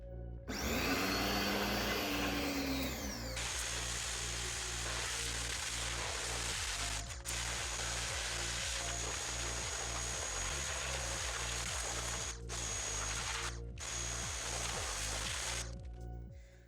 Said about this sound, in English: plug the hose into the pressure washer, go in, turn the hose on, pressure washer on